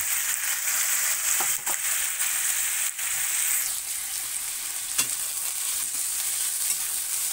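Chicken sautés in a hot pan for curry, giving a continuous bright sizzle with occasional stirring scrapes and pops, close and steady with no talking.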